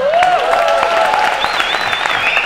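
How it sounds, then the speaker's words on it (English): An awards ceremony crowd gives a brief round of applause, a close, bright spread of clapping laced with shrill whistles rising and sliding above it. "So I just thought maybe we can all give her a round of applause."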